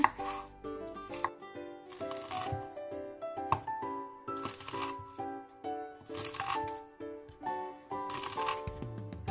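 A knife chops a red bell pepper into small squares on a board, in quick rhythmic clusters of crisp taps repeating every couple of seconds over background music.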